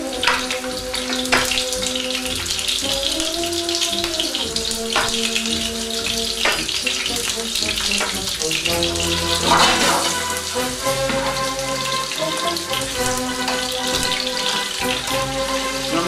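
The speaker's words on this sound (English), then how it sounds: "these meatballs cook, you need to get them sealed, get them in the pan" Meatballs searing in a hot pan give a steady, close sizzle and crackle that runs throughout, with faint clinks over the continuous frying and no talking.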